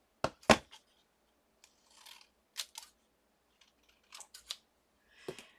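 Scissors trimming the top edge off a sheet of paper during a crafting session, with a few quiet, close snips and rustles spaced unevenly, alone in a silent room.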